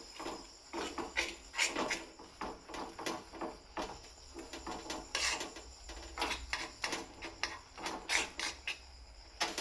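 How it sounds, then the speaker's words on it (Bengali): Maggi noodles and spices being stirred in a pan, with quiet, rhythmic rasping scrapes of a spoon against the metal repeating every second or so, close and soft, with no talk. "এবারে আমি এটাকে নেড়ে নেব।"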